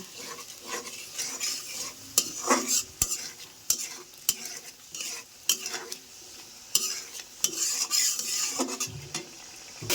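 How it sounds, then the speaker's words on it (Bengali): Cumin and coriander powder frying in a pan while a spoon stirs and scrapes repeatedly, giving rhythmic rasping strokes over a steady sizzle, close and clear with no talking. "জিরা ও ধনের গুঁড়ো আবার সুন্দরভাবে একসাথে ভেজে নেব"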